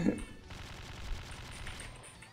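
Gunfire in the Slendytubbies 3 video game: a dense, continuous burst of rapid shots crackling together for a couple of seconds, loudest at the start and holding steady without pauses.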